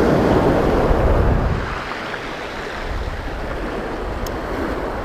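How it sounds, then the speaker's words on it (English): Wind gusting at a coastal fishing spot by the sea, a loud rushing buffet on the microphone at first that eases into a steady roar of wind and surf. "the wind just keeps picking up and blowing in my face every now and again"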